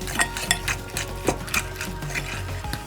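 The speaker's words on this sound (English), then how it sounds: "Now you're gonna mix it very well." Spinach filling with salt, nutmeg and freshly grated Romano cheese stirred in a bowl for heart-shaped ravioli, giving a series of close, soft scraping and tapping strokes in an uneven rhythm, with no talk.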